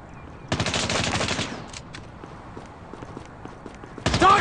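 Bursts of automatic gunfire in a Call of Duty game: a loud rapid volley lasting about a second, a few scattered single shots, then another sharp burst at the end.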